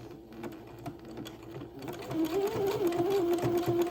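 A sewing machine zigzag stitches along a dress hem, running in a steady rapid mechanical chatter that grows louder and busier in the second half, close up and alone.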